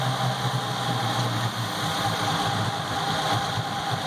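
A Yamaha V6 outboard boat engine idles steadily while the boat sits in the water, giving an even, continuous rumble with a faint buzzing hum and no other sounds.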